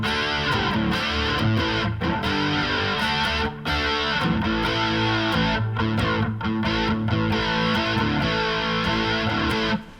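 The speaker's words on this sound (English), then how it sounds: "My tube modeler is set to a Cali rectifier." Heavily distorted electric guitar through a Line6 Helix Cali rectifier amp model with a fuzz pedal boosting it, playing dense chugging riffs and sustained chords continuously and loud with brief gaps.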